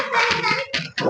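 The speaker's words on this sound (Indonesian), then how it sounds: "tepuk tangan buat Ibrahim" Schoolchildren in a classroom give a short burst of hand-clapping for a pupil, a quick patter of claps mixed with a few young voices, lasting about a second.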